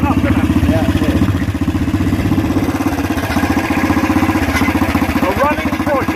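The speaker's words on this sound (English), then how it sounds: "The engine sounds far enough, doesn't it?" A 1961 AJS 16MS 350cc motorcycle engine idles close by with a steady, rapid throbbing chug that stays even throughout, with no speech over it.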